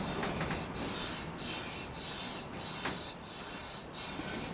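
A finger rubbing black powder fouling residue left from burning homemade salt cedar black powder, a soft raspy scrubbing repeated in about seven even strokes, close and quiet with no talking.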